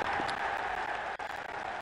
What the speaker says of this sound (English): Oh, the crowd's frothing it too.